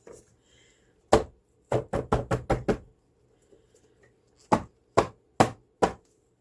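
Cast material being knocked out of a mold: loud, sharp hollow knocks, first one single strike, then a rapid burst of five, then four more evenly spaced blows, all close up with no talking.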